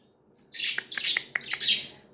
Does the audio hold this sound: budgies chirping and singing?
yes